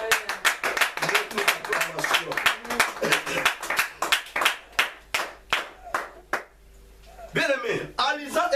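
A church congregation claps in a fast, steady rhythm for about seven seconds, loud and close, with voices mixed in. The clapping stops and a single voice speaks alone at the end.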